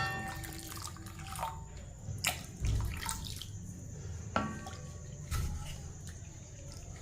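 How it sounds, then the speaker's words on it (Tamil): Water trickles and drips into a soup pot, with soft splashes and a low background hum, close by and fairly quiet. "நம்ம தேவையான அளவுக்கு தண்ணி ஊற்றிக்கிடுவோம்."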